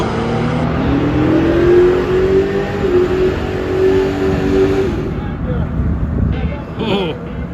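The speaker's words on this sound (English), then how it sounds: "look at that Model Y go" A Tesla Model Y accelerates hard off the line in a drag race, its electric drivetrain whine rising steadily in pitch for several seconds under loud crowd noise and voices, then fading as the car pulls away.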